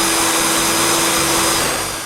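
A workshop vacuum runs steadily for a miter saw cabinet build, a loud, continuous close-up roar with a constant whine on top and no talking.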